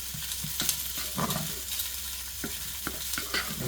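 Mayonnaise being stirred into soy butter potatoes in a pan, soft irregular scraping and clacking of a utensil against the pan over a quiet sizzle, close and fairly faint.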